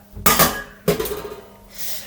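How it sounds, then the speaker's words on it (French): Two metallic clanks close by as a lid is set onto a pot, followed by a short rattle and quiet. "Et donc je vais couvrir la casserole pour que ça chauffe plus vite"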